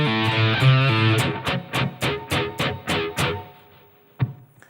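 Electric guitar riff, opening with sustained chords and then a run of sharp, evenly spaced picked hits, each ringing briefly before a final accented note, close and alone.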